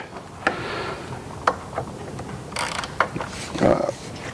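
Pinch bolts on the clip-ons of a 2024 Kawasaki ZX6R stunt build being worked with a ratchet: close, scattered metallic clicks and short ratcheting bursts with quiet gaps between.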